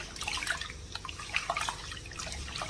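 Rice is washed in water for tomato rice, with close, irregular sloshing, dripping and splashing as grains are rubbed and stirred, moderately loud without speech.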